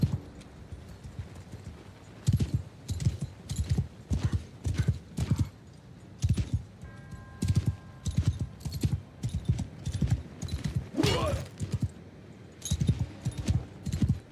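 Horse hooves clip-clop in repeated rhythmic bursts in the Warhammer mod The Old Realms for a Blood Knight, loud and close, with a brief whinny midway and no talk.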